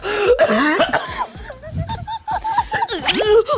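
A voice bursts into a fit of coughing and throat clearing, several harsh coughs mixed with wheezy, laugh-like sputters, close and fairly loud.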